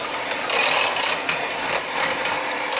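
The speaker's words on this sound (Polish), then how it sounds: "Wyłączam mikser i możemy przyprawiać." An electric hand mixer whirs steadily while béchamel sauce is beaten in a pan, a continuous buzzing, slightly rattling motor drone with small pulsing variations, close and fairly loud.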